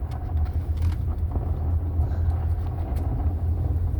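Car rolling slowly through a quiet town parking lot before a snowstorm, heard from inside as a steady low engine rumble and road drone that stays even and fairly loud throughout.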